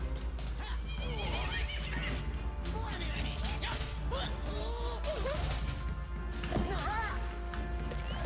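A horse in Luigi's Mansion 3 whinnies repeatedly amid galloping hooves, crashes and whacks from the fight, the neighs rising and falling over a loud, busy game soundtrack with a voice talking in places.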